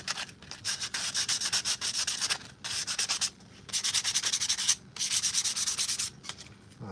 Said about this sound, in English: I'll sand this off.